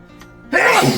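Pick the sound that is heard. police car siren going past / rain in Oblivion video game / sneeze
sneeze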